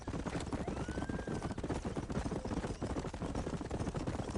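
A horse gallops in Red Dead Redemption, with rapid continuous hoofbeats under a dense wash of game noise, loud and steady throughout.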